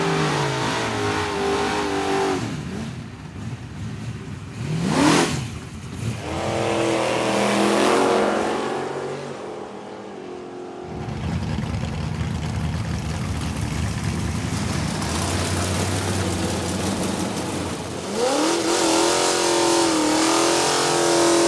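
A 1000-plus horsepower drag car at a dragstrip roars loudly, its engine revving and accelerating in several long rising bursts, with one sharp passing sweep partway through and a brief lull before the engine builds again.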